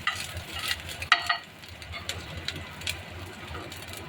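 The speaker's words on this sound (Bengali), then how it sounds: "এবার সবগুলো ভালোভাবে একটু ভেজে নিচ্ছি।" Ginger, chili and asafoetida frying in a pan, a close soft sizzle with a few sharp clicks and scrapes from stirring at the start, continuing quietly with no talking.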